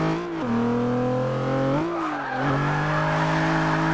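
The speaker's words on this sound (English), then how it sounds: "You can literally hear the welded diff hopping." A Nissan 350Z with a welded differential in a racing video game: a loud, steady engine drone whose pitch dips and surges as it corners tightly, with tire squeal and skidding throughout and no voices.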